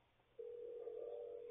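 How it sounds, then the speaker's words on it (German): A steady telephone line tone starts abruptly and holds, quiet and thin as if heard through a handset, with no voices over it. "Ja, tutet immer noch da bei euch im Telefon."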